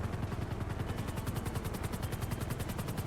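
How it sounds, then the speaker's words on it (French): Helicopters set down in GTA 5, their rotors giving a steady, fast chopping beat that fills the mix loudly and continuously, with no voices over it. "Les hélicoptères sont en train de se poser"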